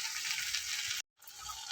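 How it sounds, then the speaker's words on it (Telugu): Sliced okra fries in a pan with a dense, steady sizzle, briefly cut off by a moment of silence before the crackling resumes close by. "ఇట్లా చక్కగా వేగుతుందండి, టైం పట్టింది."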